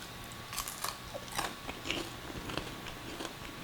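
Someone bites into and chews ghost pepper candied bacon at close range. Crisp, irregular crunches and mouth sounds come quietly over a faint background hiss.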